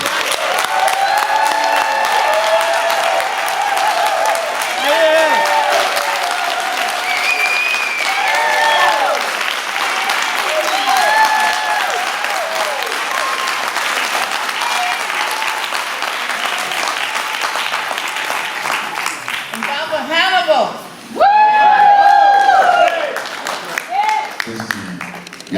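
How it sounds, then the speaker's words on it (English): An audience at a Kwanzaa celebration claps and cheers in a long, loud burst of applause that dips briefly near the end, then surges again while voices rise through it. "that ain't a good enough applause for her."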